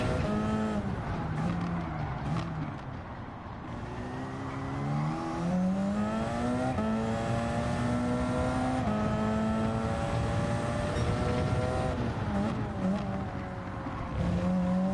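Race car engine revving and shifting through gears at the Deep Forest circuit in Gran Turismo 7, a loud, close, rising and falling whine with tyre noise underneath.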